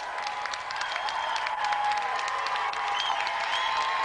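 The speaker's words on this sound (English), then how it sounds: "So let's have another round of applause for our two celebrity guests, Hugh Higginson and Mark Wingett!" A television studio audience gives sustained applause for two celebrity guests on a video game show, a thick, even roar of clapping with a little crowd noise and a faint musical tone beneath.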